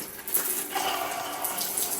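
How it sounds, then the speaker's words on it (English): Shower water runs steadily with a soft, continuous hiss and splash, close by and unbroken, with no talk. "Let me take a shower guys"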